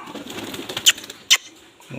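A black pigeon beats its wings in two sharp, loud bursts over a murmuring, shuffling background, close by with no talk.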